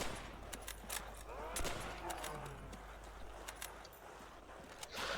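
Gunfire in Call of Duty: World at War Zombies on the Nacht der Untoten map, scattered sharp single shots and short bursts at moderate level, partly under a voice talking over the game.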